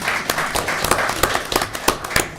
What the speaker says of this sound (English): You can applaud.